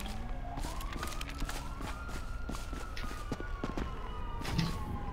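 A police siren in GTA 5 wails, rising and falling over a busy, noisy background with thumps and rustling.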